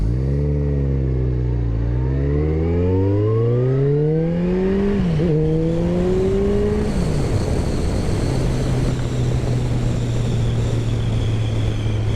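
A Kawasaki Concours 14 motorcycle revs up through rising engine tones, then settles into a steady cruising drone with a constant roar of wind rushing past, loud and continuous throughout.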